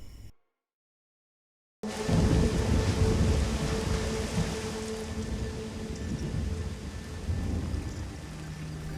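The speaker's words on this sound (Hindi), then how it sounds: "तेज बारिश रुकने का नाम नहीं ले रही थी" Heavy rain pours down steadily in a dense, continuous roar with a deep rumble underneath, loud and close after a brief silence at the start.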